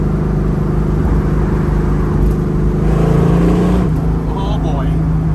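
A 1970 Dodge Challenger cruising at 70 mph in fourth gear around 3,800 rpm, a loud steady engine drone and road rumble heard from inside the car, with someone talking over it.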